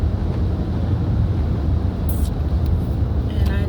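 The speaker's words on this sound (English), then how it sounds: "I'm driving and watching this traffic" Inside a car moving through traffic, a steady low engine and road rumble fills the space, with faint brief clicks and rattles near the end.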